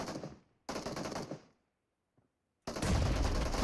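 Grenade blasts in a PUBG Mobile esports match: two loud, rough bursts of noise, the first around a second long with a gap of near-silence and a faint tick, then a heavier, longer boom that fills the end.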